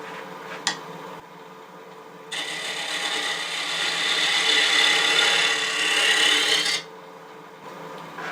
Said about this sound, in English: I want to get my detail gouge so I can get in there very carefully and cleanly to make that shoulder